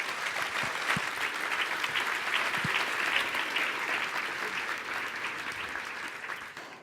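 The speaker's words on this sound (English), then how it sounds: "Give him a round of applause." An audience applauds during a live podcast recording, with steady dense clapping filling the room at moderate level throughout.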